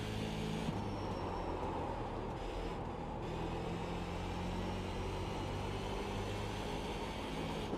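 SK Modified race car in the iRacing sim at Oxford Speedway roars continuously at high revs, a dense loud engine drone with steady tone and no talking.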